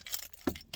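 Brief metallic jingle of car keys, a few short clinks close by, with low rumble in the background.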